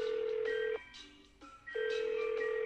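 A telephone call tone in the Russian TV quiz game Spin the Drum (Вращайте барабан), with a steady ringing tone that repeats twice and a short pause between the rings, sounding clear and electronic with no talking.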